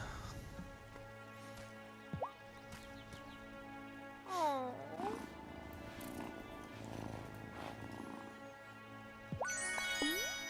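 A cat in the video game Wylde Flowers gives a few short meows and trilling calls at intervals, set over soft game music and ambient background sounds.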